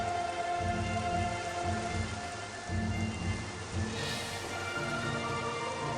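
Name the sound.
rain pattering in Metroid Prime Remastered video game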